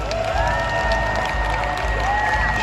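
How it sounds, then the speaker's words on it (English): A convention audience at the Pokémon Europe International Championship claps and cheers loudly, a dense roar of applause with whoops and voices carrying over a steady low rumble of the hall. "Give yourself a big round of applause."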